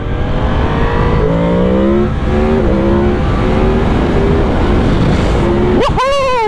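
A Yamaha MT10 motorcycle engine revs loud and close, pitch sweeping up and down through repeated throttle blips, ending in a sharp high climb; a voice speaks briefly over it.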